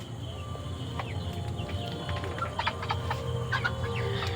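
Chickens on a clean poultry farm give scattered short clucks and calls over a steady low hum of farm noise, several birds at moderate distance with no talking.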